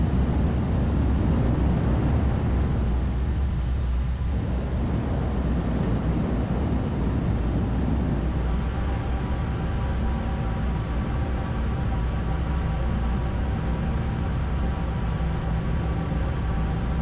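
A simulated airliner in a flight simulator game taxis off the runway through a high-speed exit after landing, its engines a loud, steady low rumble and whine that shifts slightly in tone and runs without a break.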